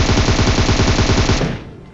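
A rapid, steady stream of automatic gunfire in PUBG Mobile, loud and close, running for over a second before cutting off with a short decaying tail.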